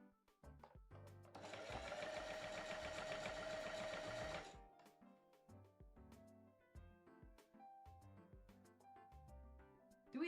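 A sewing machine runs in one steady burst of fast, dense stitching for about three seconds, stopping as the needle is set and stitching reversed; quieter clicks and handling noises follow, with faint talk.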